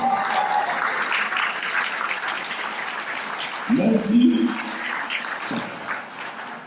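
A crowd at a Pan-African speech event in Guadeloupe breaks into applause, a moderately loud patter of clapping under which a voice continues speaking.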